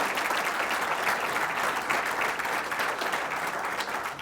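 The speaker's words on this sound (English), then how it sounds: "And let's give him a round of applause." A sustained round of applause from an audience for Governor Florio at a public policy speaker event, dense and steady clapping filling the room throughout.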